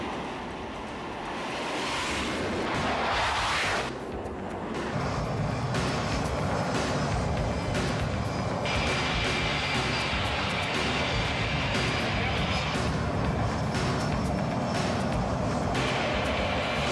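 A light plane flown by a pilot near Kitty Hawk runs with a steady, loud engine roar and broad rushing noise, rising in the first few seconds and then holding continuously with a faint high whine on top.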